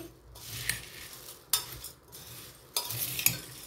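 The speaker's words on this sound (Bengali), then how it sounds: "একটু সর্ষের তেল দিয়ে মেখে তৈরি করলাম ঝালমুড়ি" Jhal muri of puffed rice, potato, chickpeas, chanachur, green chili and peanuts being tossed with mustard oil in a bowl, heard as bursts of rustling, scraping mixing strokes with a few sharp clinks, close and alone.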